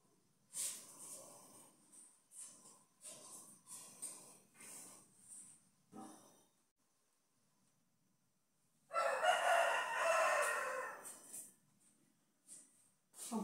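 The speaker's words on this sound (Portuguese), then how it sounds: "galo já tá cantando" A rooster crows several times, loud and close, in repeated bursts with short pauses and one long, full crow near the end; no one speaks over it.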